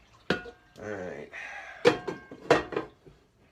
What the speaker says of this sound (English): So I'm going to do some dishes here while the eggs boil up real quickly.